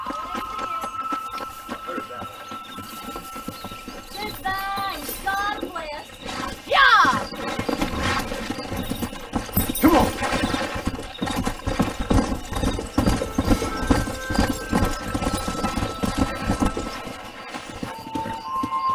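Horses in Red Dead Redemption break into a race, rhythmic galloping hoofbeats building and pounding steadily under game music, with a loud neigh partway through and voices talking over the ride.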